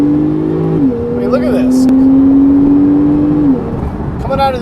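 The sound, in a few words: Porsche 991.2 Turbo S engine accelerating out of turns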